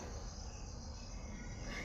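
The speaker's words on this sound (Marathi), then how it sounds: "त्या रातकिड्यांचे आवाज ते पक्ष्यांचा चिवचिवाट" Dense, continuous cricket chirping fills the air, a steady shrill buzz with no voices.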